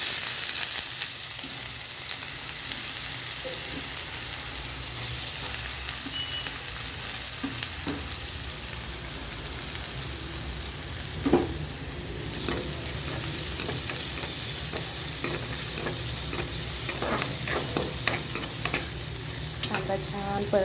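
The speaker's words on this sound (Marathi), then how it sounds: "त्यातच आपण आता कांदा घालून घ्यायचा आहे।" Onion sizzles and fries in oil in a kadhai while masala bhindi is being made, with a steady crackling hiss and occasional louder stirring scrapes throughout.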